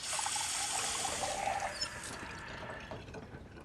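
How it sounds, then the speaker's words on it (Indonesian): Tap water runs into a kitchen vessel as a steady, close trickle and pour that fills the whole short stretch and thins slightly toward the end, with no one talking. "pergi ke dapur dan mengambil air bersih dari keran"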